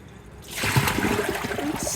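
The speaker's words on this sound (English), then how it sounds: "I'll pour it out." Dirty soak water from restoring an old U.S. flag is poured out, a quiet pause giving way to a sudden splashing, trickling stream that keeps running to the end.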